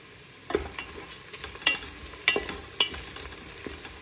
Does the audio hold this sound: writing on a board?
no